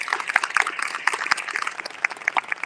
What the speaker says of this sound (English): Round of applause for the partners.